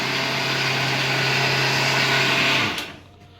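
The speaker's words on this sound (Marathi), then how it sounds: "आता इडलीचं बॅटर वाटतं समजा मिक्सरला" A mixer grinder grinding idli batter whirs loudly and steadily with a low motor hum, then winds down and stops near the end.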